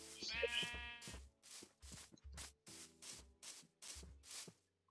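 Sheep bleat in Minecraft: about ten short, nasal bleats in a loose, uneven rhythm, clear and close with no voices over them.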